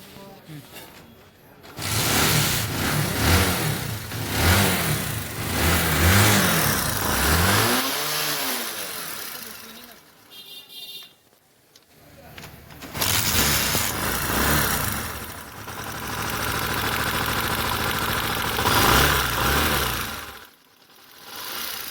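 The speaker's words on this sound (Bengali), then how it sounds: "তো আমি এখন হচ্ছে বাইকটা স্টার্ট করে আপনাদের হচ্ছে ইঞ্জিনের সাউন্ডটা শুনাই" A Bajaj Discover 125cc motorcycle engine starts up and runs loudly, revving in bursts and settling into a rough idle, with brief pauses and a voice heard in between; the bike suffers low mileage and repeated stalling.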